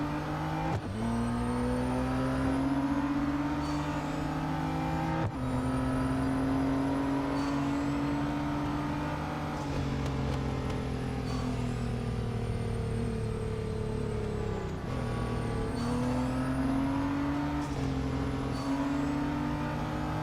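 A Nismo R33 race car engine in the Real Racing 3 video game drones steadily at high revs, its pitch dipping and climbing with gear shifts, continuous and close throughout.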